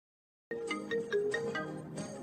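A phone ringtone plays a bright, repeating melodic phrase of electronic notes, starting abruptly after silence and continuing steadily, fairly close and alone.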